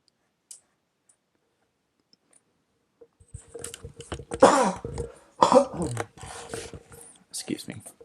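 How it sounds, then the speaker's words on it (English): A single person coughs and clears their throat several times in a quiet indoor room, close to the microphone, during a drawing session; the bursts are short and loud with brief pauses between them. "it's always a cough or something"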